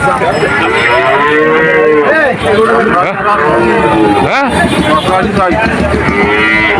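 Cattle low loudly and repeatedly at a busy Shahpur cattle market, bull calves and cows close by, long drawn moos overlapping one another amid crowd noise.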